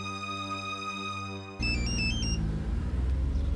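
A mobile phone rings out while a boyfriend's number is dialled: a steady electronic ringing tone that cuts abruptly to a louder, busier mix of tones and noise, with no one speaking.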